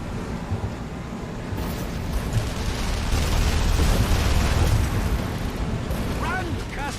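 Explosion tearing through a facility in the video game The Saboteur, a sustained loud roaring rumble that swells midway and lingers with debris-like crackle, no speech.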